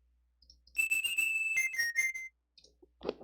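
A short run of bright, square-toned chiptune flute notes made in Deflemask, stepping between a few pitches, clear and isolated.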